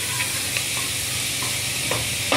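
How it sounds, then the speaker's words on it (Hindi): Chana dal roasting in a pan over low heat, a steady, close hiss of sizzling with a few soft scrapes of stirring and no talk. "इसको 2 मिनट धीमी आंच पे भूनते हैं"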